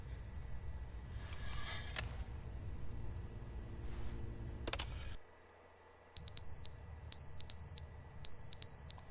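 Electronic beeping alarm from The Stanley Parable video game sounds in repeated short bursts, three or four evenly spaced beeps following a dull ambient stretch and a sudden drop to near silence.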